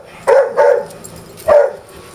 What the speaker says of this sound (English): circus trained dog